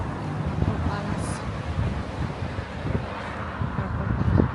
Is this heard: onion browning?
no